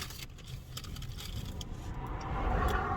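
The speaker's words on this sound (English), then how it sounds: "Ferrari with a Porsche went past me." A Ferrari and a Porsche pass by on a road, a steady broad rumble of engines and tyres that grows louder toward the end, with no talk over it.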